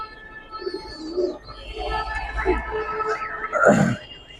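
Silver pigeons in a loft coo softly in low, throaty bursts nearby, with some faint rustling between calls.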